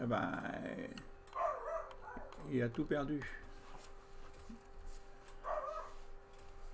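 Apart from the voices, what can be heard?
dog barking outside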